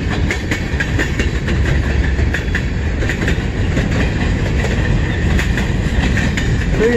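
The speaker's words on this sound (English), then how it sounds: "Pretty long train." A long train rumbles steadily past at close range in Emmett, Michigan, wheels clattering over the rails in a continuous loud roar with rhythmic clicks.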